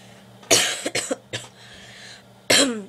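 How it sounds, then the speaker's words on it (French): A few sharp coughs close by: a burst, a couple of shorter hacks, then one more cough after a pause, in a quiet room. "un matin je me suis réveillée avec une vilaine toux"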